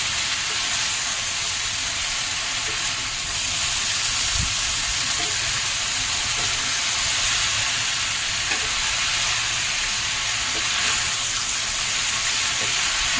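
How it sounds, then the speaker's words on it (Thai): Steady, loud sizzling and hissing of vegan food stir-frying in a large wok over a gas stove, with faint scraping stirs, continuous throughout with no talking. "จะต้องคนเพราะว่าผัดเป็นกระทะ"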